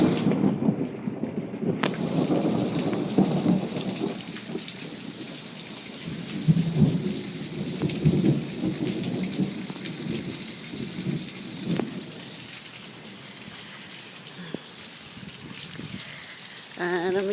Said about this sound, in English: And there's some of the thunder.